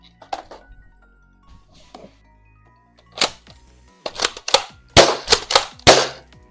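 An Aeon Pro X foam dart blaster fitted with a wobbly Game Face Prime half-length magazine fires a string of sharp snapping shots, scattered at first and then a rapid close burst of loud cracks.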